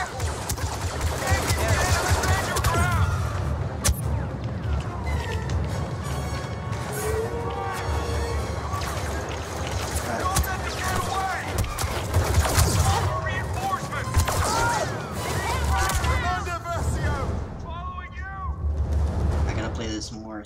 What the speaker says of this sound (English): Blast it! Open fire!